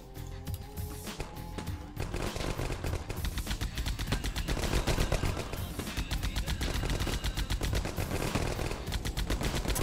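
Sustained automatic machine gun fire in the war video game 9th Company: Roots of Terror, rapid bursts hammering steadily and loud after a quieter opening, with no talking.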